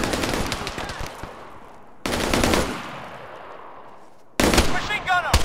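Bursts of machine gun fire in S.O.G. Prairie Fire, a Vietnam-era shooter game, come as three loud rapid volleys with brief gaps between them, with shouted voices mixed in.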